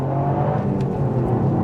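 Toyota GR Yaris hot hatch engine holds high revs while driving, a steady, close, continuous drone with road and wind noise mixed in.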